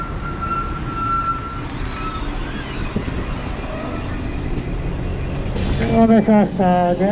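A city bus pulls in on a street in Nara, Japan, with a steady, loud engine rumble and traffic noise throughout, and a bright electronic chime sounds near the end.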